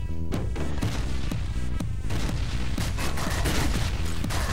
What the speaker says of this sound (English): You're a real piece of work, explosions.